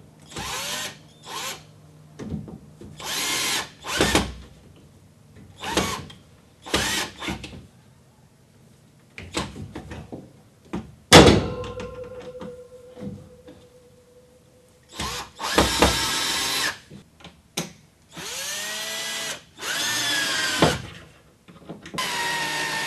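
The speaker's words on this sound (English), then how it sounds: "we're going to screw these screws into these wall anchors here like so" A power drill drives screws into wall anchors while shelf brackets are fitted in a hot water cupboard. It makes a series of loud, short whirring bursts separated by pauses, with occasional clunks in between.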